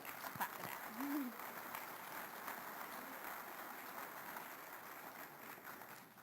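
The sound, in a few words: audience applause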